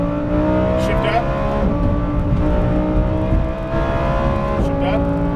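A Lamborghini Huracán Performante's engine pulls hard down a race track at Las Vegas Motor Speedway, a loud, close, rising roar with clear gear-change dips, while an instructor's voice speaks over it.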